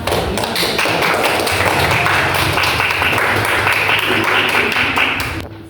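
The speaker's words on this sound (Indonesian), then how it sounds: "Sebelumnya kita berikan tepuk dulu ke kelompok yang telah" A classroom of students applauds a student group after their performance, a dense, steady wash of many hands clapping and tapping at close range, holding level for several seconds before cutting off abruptly at the end.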